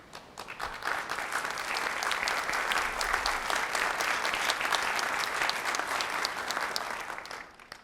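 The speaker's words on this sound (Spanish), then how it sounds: "Gracias por el aplauso" Sustained audience applause after a keynote lecture, dense and even clapping from a large crowd that swells quickly and holds steady for several seconds before tapering slightly.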